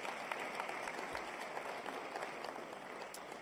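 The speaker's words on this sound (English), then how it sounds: "Another round of applause, please." Audience at a women and digital inclusion summit applauding after a panel, a dense, steady wash of clapping from a sizeable crowd throughout.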